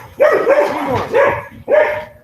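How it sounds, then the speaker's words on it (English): A dog barks four times nearby in a loud, uneven series of sharp, short barks. "Your dog's very nice."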